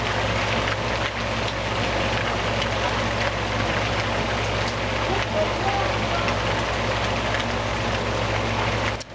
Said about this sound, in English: It's probably raining too hard.